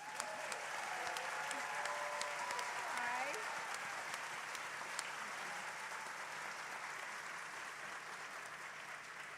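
Steady applause fills the Virginia Theater at Ebertfest 2025 as a guest is welcomed onstage, an even wash of clapping from the crowd, with a voice faintly audible underneath.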